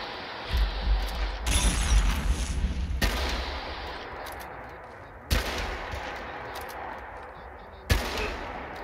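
Hunting rifle shots in Fallout 4 VR, a loud sustained burst of fire early on followed by two sharp, separated single reports, with rumbling game ambience between them.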